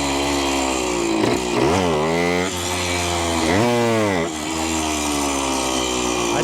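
A 1973 Yamaha ATMX 125 two-stroke motorcycle with a slipping clutch runs loud and close, its buzzing idle twice rising into sharp revs that fall back, while someone talks over it.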